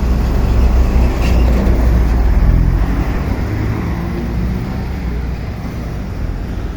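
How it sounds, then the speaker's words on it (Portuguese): Heavy car traffic on a busy city avenue beside a bike path, a steady close roar of passing vehicles that fills the whole stretch without letup. "São muitos carros."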